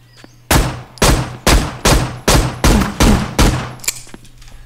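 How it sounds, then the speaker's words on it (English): Eight loud gunshots in the video game Zompiercer fire in a steady, evenly spaced sequence, each with a sharp crack and short decay, with no talking. "What about gunshots?"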